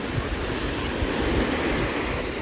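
Sea waves wash steadily onto a beach at Sveti Vlas, Bulgaria, a continuous close surf roar with wind buffeting the microphone and no voices.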